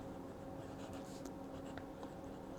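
A Graf von Faber-Castell fountain pen with a medium nib writes on paper in Stone Gray ink, giving a faint, continuous scratching of strokes over low background noise.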